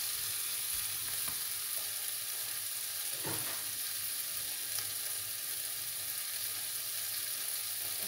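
Tetragon greens sizzle in a pan with a small splash of water, a steady close frying hiss with a brief stirring scrape near the middle and no talking.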